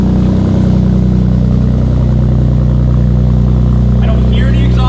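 A second-generation Ford Raptor fitted with an AWE exhaust holds a loud, steady, deep engine note throughout, close by, with a voice briefly audible near the end.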